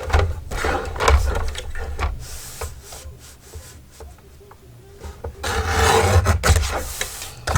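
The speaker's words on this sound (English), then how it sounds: "I'm pulling the big guillotine. This is my scary guillotine." A large paper guillotine cutter is pulled, giving rough rasping, grinding scrapes and clunks up close, rising in a louder grating stretch near the end.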